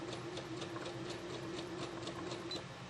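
An embroidery sewing machine stitches a quilt with a steady, fast, rhythmic hum and ticking, heard alone at low volume.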